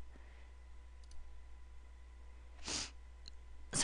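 A few sharp computer mouse clicks, sparse and close, with a slightly longer click burst near the end, over a faint steady hum in a quiet room.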